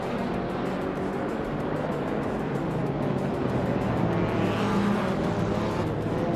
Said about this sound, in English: The race kicks off with Jackal leading the pack, followed closely by Amy in second place.